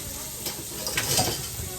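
Leeks cook in melted butter with a close, brisk sizzle and a couple of quick stirring scrapes against the pan.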